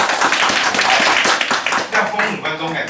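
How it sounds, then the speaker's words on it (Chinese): An audience claps for a participant during a classroom sharing session, a steady patter of applause running through the clip with a voice speaking over it. "来，再给他掌声一下。"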